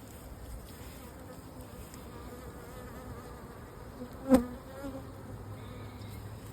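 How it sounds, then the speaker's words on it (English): Honeybees hum around an outdoor beehive in autumn while they feed on sugar, making a steady, moderately loud drone that carries on throughout, broken by one brief sharp knock partway through. "I can see that there's bees coming up here"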